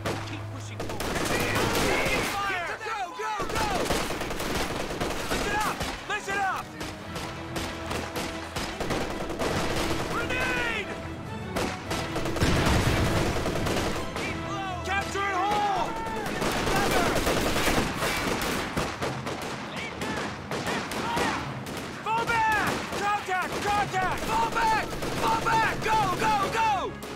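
Small arms gunfire rattles almost continuously in Company of Heroes during the Ardennes Assault fighting at Ouren. Dense bursts and volleys sound at varying distances, with occasional voices mixed in.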